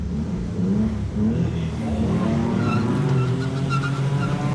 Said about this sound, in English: Yeah, wheel spin.